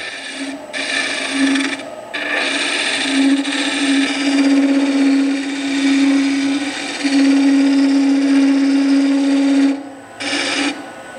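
A spindle roughing gouge peels wood on a spinning wood lathe, producing a loud, close, continuous rasping hiss with a steady tonal hum, interrupted by a few brief pauses as the tool lifts off.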